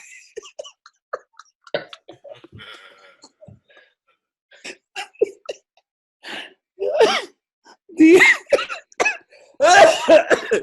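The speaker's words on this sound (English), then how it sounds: "you just triggered my cough" A string of sharp, close coughs and throat-clearing bursts, sparse at first, then louder and clustered toward the end.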